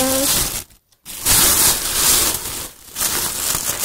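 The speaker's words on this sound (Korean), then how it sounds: "비닐봉지 소리 양해 부탁드릴게요." A large plastic bag crinkles and rustles loudly and close up in broadband bursts, with two short pauses of near silence.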